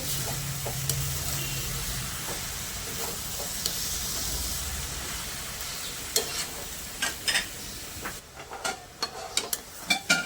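Ghee and garam masala being stirred into a vegetarian banana blossom curry in a pan, a steady soft sizzle with scraping spoon strokes that turn into distinct clacks toward the end; no voices.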